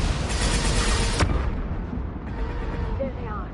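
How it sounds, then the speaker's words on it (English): A flashbang grenade goes off in Mass Effect 2 combat, a loud concussive boom with a sharp crack partway through, then a fading ringing rumble. "Watch out, flashbang!"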